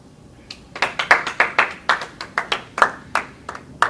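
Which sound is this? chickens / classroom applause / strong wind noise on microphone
classroom applause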